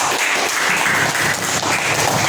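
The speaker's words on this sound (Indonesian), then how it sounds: "Berikan tepuk tangan untuk adik." Classroom clapping for a young student during a practice teaching lesson, a short, steady burst of many hands close by with no voices over it.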